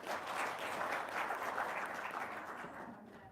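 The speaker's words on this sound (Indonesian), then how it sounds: "Sip, tepuk tangan dong." A small group applauds in a steady, even patter of clapping that holds for a few seconds and then fades, quiet and without voices.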